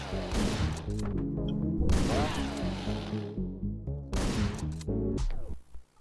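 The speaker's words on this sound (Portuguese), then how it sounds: "dá outro tiro" Gunshots in the top-down shooter game Hotline Miami 2, several loud sharp blasts with a shotgun-like boom, spread across the stretch and mixed with game music and crash sounds.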